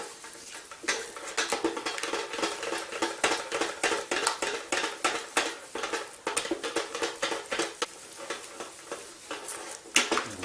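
Thickened béchamel sauce with milk being stirred in a pan, a steady run of soft scraping and tapping strokes against the pan at a brisk even rhythm, close up and without talk.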